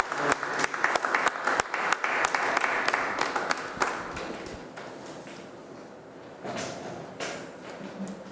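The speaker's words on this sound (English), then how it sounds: "Let's welcome him with a round of applause." An audience at a business report launch claps to welcome a speaker, a dense round of applause that builds and then thins into scattered claps before fading.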